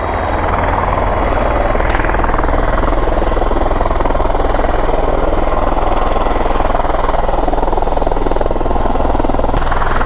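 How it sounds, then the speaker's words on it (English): Loud, continuous rotor and engine roar from Osprey tiltrotor aircraft flying nearby at a Marine Corps base, a steady heavy whir that stays strong throughout with no talking. "So those are Ospreys, the helicopters with the folding wings like that."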